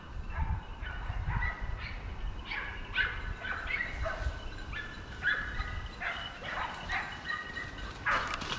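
Hunting dogs close in during a wild boar drive, barking and yelping in scattered bursts at moderate distance, with outdoor rumble underneath and no talk.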